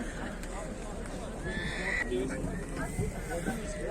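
At a horse market, a horse gives a neigh amid general crowd chatter and background noise, with several people talking nearby throughout.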